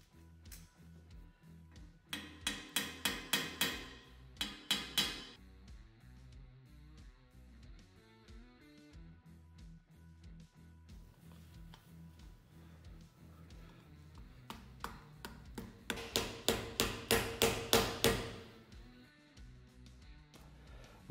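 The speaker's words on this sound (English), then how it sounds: "I use just hammer to gently tap some sides to make it" A hammer gently tapping a tapered bearing race into the front fork of a Ural/Dnepr motorcycle, heard as two bursts of rapid metallic taps with quiet pauses between them.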